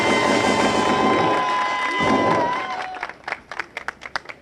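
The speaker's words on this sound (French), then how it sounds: "il faut applaudir pour eux" Crowd applause and cheering at an outdoor political meeting at Carrefour Avorbam, a dense wash of clapping that thins into scattered individual claps toward the end.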